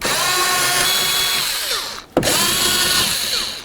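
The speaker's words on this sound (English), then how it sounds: "let's remove our 3 mounting nuts here" Power tool whirring steadily as it spins off the three mounting nuts on a side rear-view mirror of a 2002-08 Dodge RAM 1500, loud and close, with a brief pause and restart midway.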